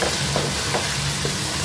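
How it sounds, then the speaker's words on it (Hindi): Aloo keema frying with salt, chilli, turmeric and ground coriander in a pan, a dense steady sizzle with soft rhythmic scrapes of stirring, close and fairly loud. "5 मिनट तक मैं इसे मसालों के साथ भूनूंगी"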